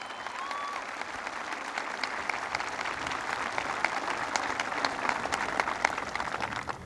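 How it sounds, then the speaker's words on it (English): A crowd of soldiers and families at Fort Stewart, Georgia applauds for Holly Petraeus, a thick continuous clapping that swells slightly and holds, heard from amid the audience, with a brief whistle early on. "I want you guys to give her a big round of applause."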